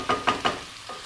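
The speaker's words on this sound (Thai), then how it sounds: "ผัดรวมกันแล้วก็เติมน้ำ" Pork stir-fried with salted fish in a pan: three quick scraping strokes of a spatula over a low sizzle, close and brisk, then a fainter fourth scrape.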